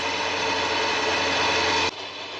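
A motorcycle engine runs steadily at 3000 rpm, loud and close, easing slightly in level just before the end.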